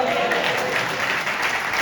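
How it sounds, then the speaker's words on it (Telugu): A church congregation claps together in a dense, steady burst of applause that fills the room for under two seconds. "ఒకసారి యేసుకి చప్పట్లు కొట్టగలరా?"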